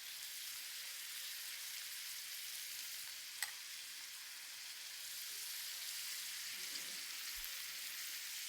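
Food for Azerbaijani plov fries in melted ghee (clarified butter) in a pan, giving a soft, steady, quiet sizzle with a faint clink partway through.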